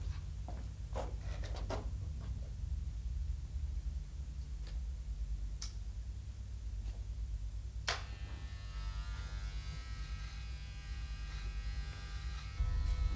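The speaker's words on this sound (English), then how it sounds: "she's going to change to the number 1 guide just to neaten up Dad's moustache" A Breville electric hair clipper fitted with a number 1 guide trims a man's moustache, giving a low steady buzz close by with small clicks and snips scattered over it, no voices.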